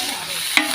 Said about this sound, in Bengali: মাছের আর আলু আর করলা ভাজি করতেছি